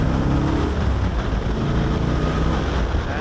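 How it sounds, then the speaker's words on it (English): A 1969 Plymouth Road Runner pulls away in first gear, its exhaust a steady, loud, deep rumble heard close up, with wind buffeting the microphone throughout and no talking. "I love the exhaust on this baby."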